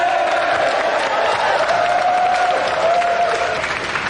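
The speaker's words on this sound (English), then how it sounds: "And a round of applause again for our champion" Studio audience on the GamesMaster game show applauds steadily for the champion, John Beveridge, a dense, even wash of clapping that holds at full strength throughout, with a faint tonal line threading beneath.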